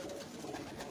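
Domestic pigeons kept by a pigeon fancier in Sheikhupura, a brief low cooing close by, with some background noise.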